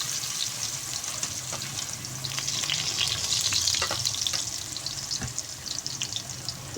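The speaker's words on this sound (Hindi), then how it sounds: "अब मैं इसके अंदर आलू फ्राई करूँगी" Round potato slices frying in oil in a pan, a continuous close hiss and crackle with scattered pops, rising slightly in the middle.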